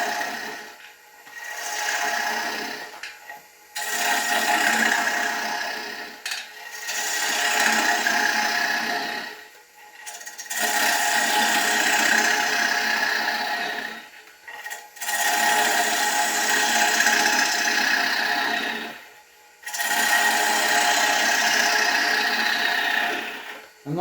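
A lathe tool hollows out a wooden bowl being turned from a log, in several long scraping passes of several seconds each, separated by brief pauses, loud and close.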